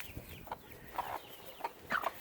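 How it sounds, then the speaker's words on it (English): Chickens cluck and squawk during a scuffle among the flock, a series of short, sharp calls close by, coming in quick bursts a few beats apart. "You're going to break up that chicken fight?"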